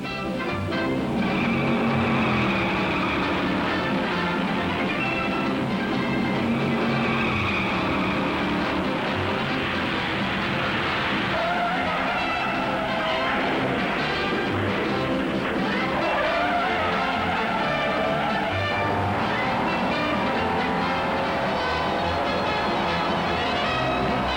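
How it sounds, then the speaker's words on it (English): Loud, continuous engine roar from several stock cars at the 1957 Southern 500 at Darlington, with pitches rising and falling as they run together, steady throughout with no talking. "The fastest stock cars in America move to the starting line for the Southern 500"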